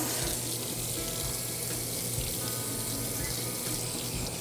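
Water sprays from a hose onto a filter in a steady, hissing rush, close and continuous, without pause or other sounds.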